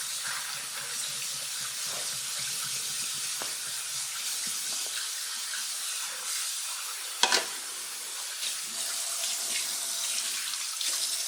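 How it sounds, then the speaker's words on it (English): Tap water runs steadily into a sink while a pompano fish is rinsed clean, a continuous close hiss of flowing water with a brief splash partway through and no talking. "going to run water in there just to make sure everything's cleaned out."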